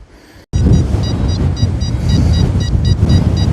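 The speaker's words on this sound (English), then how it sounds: "Oh god, it is windy again. The wind's really picked up here again." Strong wind buffeting a microphone outdoors on farmland during metal detecting, a loud, constant low roar with gusty swells that bursts in abruptly after a short quieter moment and keeps blowing.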